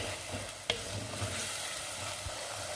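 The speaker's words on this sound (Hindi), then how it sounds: "ये देखें मसाले की भुनाई हो चुकी है बेहतरीन रंगत और खुशबू के साथ।" Spices and cumin are stir-roasted in a pan for mutton liver masala, with a soft continuous sizzle, scraping stirs and one sharp clink of a spoon against the pan, and no talking.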